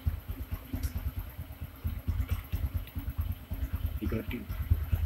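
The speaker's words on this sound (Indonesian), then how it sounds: "Hidupkan mesin." A 2013 Honda Supra X 125 motorcycle engine idles close by, a steady low putter of rapid rhythmic pulses with faint mechanical ticking above it.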